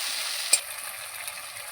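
Cumin, dried red chili, garlic and ginger pastes fry together in a pan for a pangas fish curry, giving a soft, steady hiss with a single brief click.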